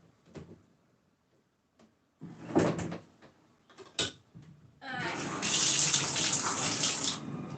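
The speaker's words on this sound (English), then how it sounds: "I'm going to fill it up with water pretty good." Water pours into a Zeny portable washer tub, first a few knocks and short splashes, then a steady, loud gushing stream filling the tub.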